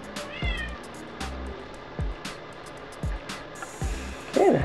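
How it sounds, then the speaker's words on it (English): A house cat meows repeatedly indoors, short close calls coming roughly once a second, with a louder, longer meow at the end and faint room noise between. "My jealous cat, hear me talking to y'all."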